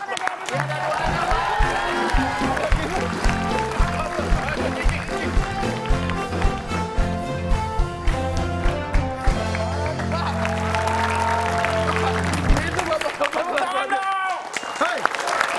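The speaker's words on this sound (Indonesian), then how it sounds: "kita kasih tepuk tangan dulu" A live comedy show audience claps and cheers, with steady crowd applause rolling under loud talk and music throughout before fading near the end.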